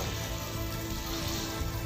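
Hot water poured into a pan of frying soybean curry, giving a steady, close hiss and sizzle with a bubbling wash that holds level for the whole two seconds, with no voices.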